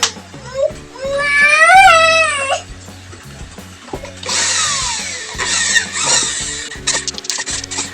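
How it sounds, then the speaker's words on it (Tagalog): A power drill bores a hole into a PVC pipe screwed down to wood for a toy marble gun. A high squealing sweep comes first, followed by bursts of harsh, close drilling whine. "Tapos saka nyo po gagamitan ng barena."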